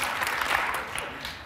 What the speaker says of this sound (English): That was unsolicited applause.